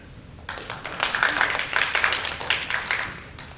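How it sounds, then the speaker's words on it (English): Audience applause at a stage play by a youth theater studio, clapping that swells in after a quiet half second and continues fairly steadily for about three seconds before trailing off. "Applause for Parrot."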